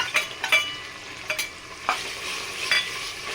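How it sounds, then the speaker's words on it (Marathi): Ground spice paste going into a hot pan for a Maharashtrian mixed vegetable bhaji, with soft continuous sizzling and a few sharp scraping stirs of a spoon, fairly close and without talk. "त्यानंतर आपण आता त्याच्यामध्ये घालणार आहोत जे आपण वाटण तयार केलं आहे ते घालायचं आहे."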